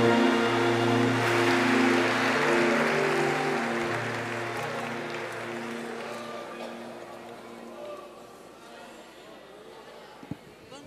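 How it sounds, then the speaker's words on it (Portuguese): A church congregation at a family service in IEQ Limeira claps loudly in a rain-like wash of applause over sustained music, the clapping slowly fading across about ten seconds. "Dá uma salva de palmas daquela gigante para Jesus"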